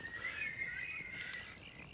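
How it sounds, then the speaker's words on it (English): A thin, high chirping call repeats over quiet background noise, faint and somewhat distant, with no talking. "That's just a bird, right?"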